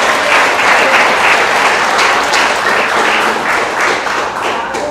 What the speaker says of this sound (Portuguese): Vou passar uma de palmas ao Senhor